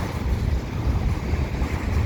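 Steady, heavy wind buffeting the microphone, a constant low roar and rumble with no pauses and no voices.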